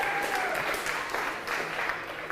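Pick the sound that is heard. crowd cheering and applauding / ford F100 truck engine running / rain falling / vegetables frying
crowd cheering and applauding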